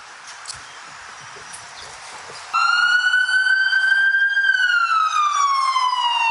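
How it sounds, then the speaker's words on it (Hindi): A loud wailing emergency vehicle siren in Toronto starts abruptly and holds a steady high tone before sweeping downward, with faint background noise before it begins. "ये सायरन पहले बहुत फैसिनेट करता था मुझे ना"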